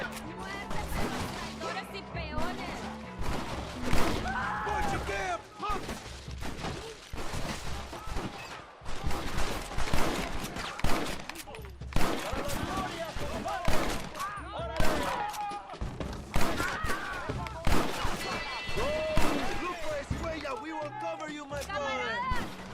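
Frequent gunshots in Red Dead Redemption crack in sharp irregular volleys, loud and close, mixed with game sounds and someone talking excitedly over the shooting.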